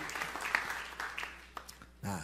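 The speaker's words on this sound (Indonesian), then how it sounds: "Sorak-sorai tepuk tangan yang paling meriah buat Yesus." A church congregation claps in praise for a couple of seconds, with cheering voices over the patter of hands and a rise in sound near the end.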